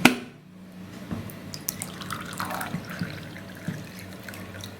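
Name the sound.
water being poured into a glass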